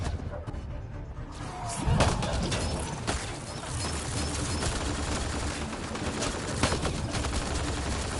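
A new rifle fires in the sci-fi shooter Mass Effect: Andromeda, sharp repeated shots cracking through a dense background of game ambience and effects, with a louder burst near the start.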